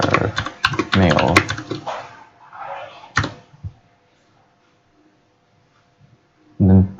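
A few sparse key clicks on a computer keyboard during spreadsheet data entry in Excel, heard after a stretch of talking and followed by near silence.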